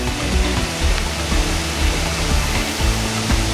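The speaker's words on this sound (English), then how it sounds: "It's supposed to be a heckin' beautiful waterfall" K Falls, a waterfall near Revelstoke, gives a steady, loud broadband roar of falling water that fills the whole clip without letup, close and continuous, with no voices over it.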